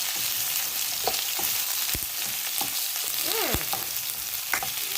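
Beef, carrot, onion and garlic frying in a pan, a steady low sizzle running throughout with a few brief stirring knocks and clinks of a utensil against the pan.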